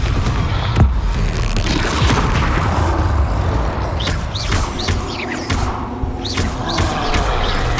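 Confringo blasting spells go off in Hogwarts Legacy, with loud booming impacts and crashing bursts rising out of dense, continuous battle noise.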